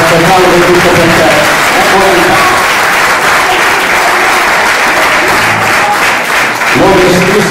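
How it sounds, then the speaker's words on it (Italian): A theatre audience gives loud, steady applause, dense clapping that fills the room for several seconds before thinning slightly near the end, with voices mixed in. "Hai raccolto tanti applausi, brava."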